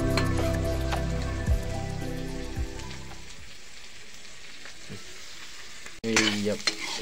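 Food sizzles and crackles in a hot pan with continuous frying hiss. Occasional stirring scrapes and bumps punctuate it, and the sizzle briefly softens before surging louder again near the end.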